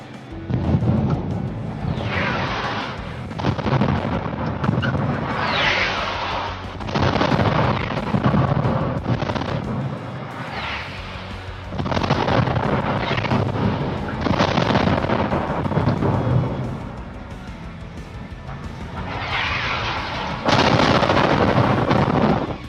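Explosions and heavy booms sound during a massive attack on Donetsk, a series of loud, rumbling blasts coming in waves with roaring reverberation between them, at a distance, with no talking.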